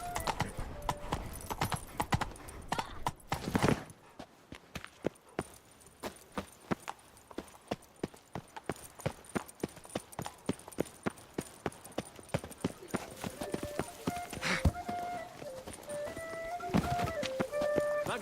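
A horse's hooves pound in a rapid, continuous clip-clop in The Witcher 3: Wild Hunt, loud and close, joined near the end by melodic game music.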